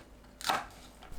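A kitchen knife cuts Cheongyang and red chili peppers into 0.5–0.7 cm slices, giving one short, crisp chop against a quiet background with no talking.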